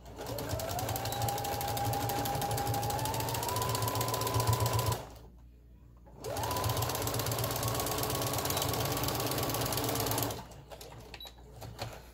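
A sewing machine stitches a jersey bow fabric piece in two steady, whirring runs of about five and four seconds, separated by a short pause and followed by a quieter tail of faint handling noise.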